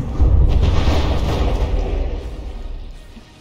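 Heavy battleship gun volley in the naval combat game From The Depths, a deep booming rumble of explosions that starts loud and close and slowly decays over a few seconds, with no speech.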